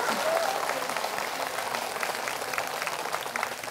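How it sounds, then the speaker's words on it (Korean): Applause from an audience at a Buddhist pilgrimage gathering in Bodh Gaya, India: steady, dense clapping that fills the whole stretch at a moderate level, with a faint murmur of the crowd underneath. "박수 한번 쳐봐요."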